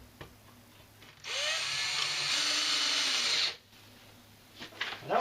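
A power drill drives a screw into a plastic cover in one steady burst of about two seconds, with a rising whine, then stops, followed by faint handling clicks.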